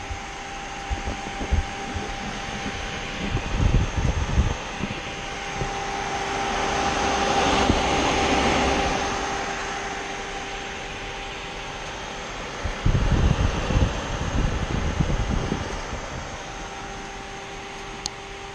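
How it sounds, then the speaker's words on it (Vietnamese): Cooling fan whirring on a Honda Shadow Phantom VT750 C2B motorcycle with a hot engine, a steady airy hum that swells and fades midway, with bursts of nearby rumbling noise early and late. "cái độ mát của cái xe này là phải nói là quạt nó đang quay các bạn"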